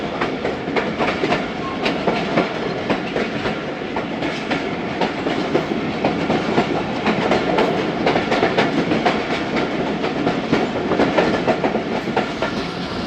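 The Jaffar Express rolls along the rails from Peshawar toward Lahore near the Sanjani tunnel, heard from inside as a loud, continuous rumble with steady rhythmic clickety-clack of wheels over track joints.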